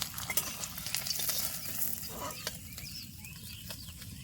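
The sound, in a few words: hilsa fish tails frying in a pan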